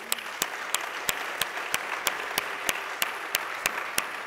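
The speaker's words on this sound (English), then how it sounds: "Let's give them a round of applause, please." A small audience at a Fort Worth community event claps in thanks, faint and sparse, with sharp evenly spaced clicks ticking steadily through the soft applause.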